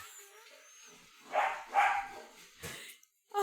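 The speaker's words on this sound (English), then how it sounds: "Just had a massive bang through the dog door." Dogs bark in a home and bang through a dog door, giving a few loud, close yelps and barks in short bursts with quiet gaps between, and a sharp knock near the end.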